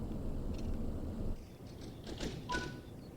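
Train doors closing on an OBB 1020 electric locomotive train in Train Sim World 5, a soft low rumble followed by a few brief thunks and a short beep, heard alone at moderate volume.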